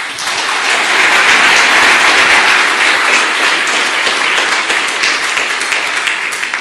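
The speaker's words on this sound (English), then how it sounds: "Give a warm welcome applause to Sebastian." A conference audience gives sustained applause welcoming a speaker at a hacker congress talk, a dense, loud wash of many hands clapping that holds steady and tapers slightly toward the end.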